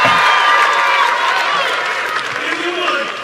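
A church congregation gives a round of applause to the Lord during a Portuguese-language service, dense continuous clapping from many hands filling a hall, fairly loud and sustained.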